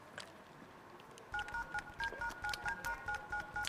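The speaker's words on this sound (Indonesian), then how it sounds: "Gue telepon dulu ya." A phone number is keyed in as a quick run of short, evenly spaced dual-tone keypad beeps, clear and close, following a brief stretch of quiet room noise.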